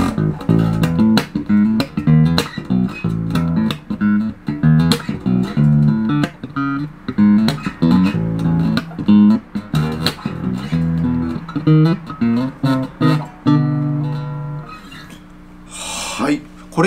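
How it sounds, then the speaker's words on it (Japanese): Bacchus Global Series HWL5-CUSTOM24 bass played through its front pickup, giving a warm, rounded tone, with a steady run of plucked notes close up that ends in a brief squeak or scrape. "これが今フロントピックアップの音なんですけど"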